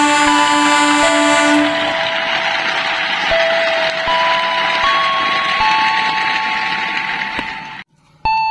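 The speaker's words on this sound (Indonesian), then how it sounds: "Perhatikan jalur 1 akan segera melintas cepat kereta api." A train rumbles steadily through an Indonesian station on track 1 at close range without stopping, with sustained tonal whines and squeals over the roar, ending in an abrupt cutoff followed by a brief beep.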